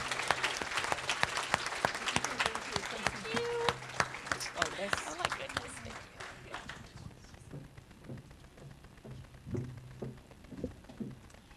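Audience applause at the inaugural Synergies Work EDDIE Awards ceremony, loud crisp clapping under a speaking voice at first, then thinning into scattered claps and murmuring as the talk continues.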